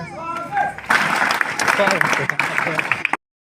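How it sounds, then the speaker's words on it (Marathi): A college crowd at a poet's event bursts into loud applause after a short stretch of speech, and the clapping holds dense and steady for about two seconds before it cuts off. "तुमच्या गावासाठी एकदा जोरदार टाळ्या तुम्ही सगळ्यांनी वाजवून द्या."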